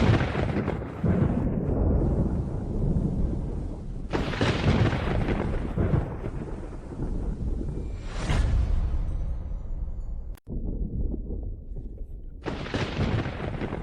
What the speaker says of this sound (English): Heavens, hear my command. Thunder, come.